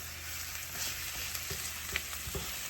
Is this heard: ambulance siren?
no